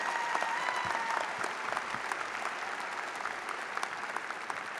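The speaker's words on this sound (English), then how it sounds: "Would you give her one more round of applause?" A crowd claps at a college commencement ceremony, sustained applause that holds steady for several seconds before slowly thinning, with no talking over it.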